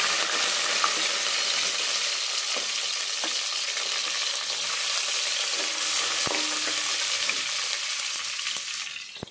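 Chopped onion sizzles in a pan for vegetable pulao, a steady, dense frying hiss that runs throughout with small pops and stirring scrapes close by, and no talking.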